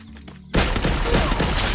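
Gunfire in the Free Fire battle game erupts suddenly after a brief quiet stretch, becoming a dense, loud burst of rapid shots that continues to the end.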